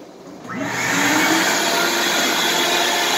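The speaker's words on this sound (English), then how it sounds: "Vacuum." A vacuum starts up and runs while drywall is sanded with an electric sander, its motor rising quickly to a loud, steady whine after a short quieter moment, then holding even and alone to the end.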